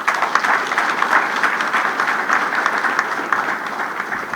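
An audience applauds President Félix Tshisekedi at a Union Sacrée gathering, producing loud, dense, steady clapping that continues unbroken from start to finish.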